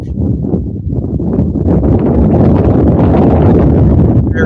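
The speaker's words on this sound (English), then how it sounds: "Very windy." Strong wind buffets the microphone at an outdoor high school boys baseball game, a steady, loud, broadband rumble that fills the whole stretch with no break and no voices over it.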